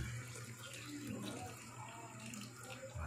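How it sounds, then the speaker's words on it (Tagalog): About one cup of water poured into a cooking pot while making adobo, a quiet steady trickle and splash running for a few seconds against a low background hum. "tapos lagyan na tubig 1 cup."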